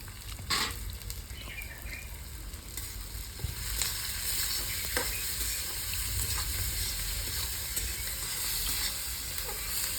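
Raw onion and salt going into very hot oil for a village-style fish curry, giving a loud, steady sizzle and hiss close up with a few scraping stirs, and no talking.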